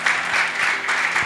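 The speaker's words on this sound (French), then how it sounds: "Clap your hands for Jesus." A church congregation claps their hands together for Jesus, producing steady, dense applause that carries throughout without any clear pauses.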